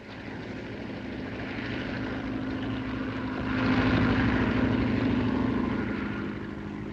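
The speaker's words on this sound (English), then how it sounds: "It's a signal for that plane to land." A propeller airplane drones steadily overhead at night, a continuous engine hum that swells louder midway as it passes, with no voices.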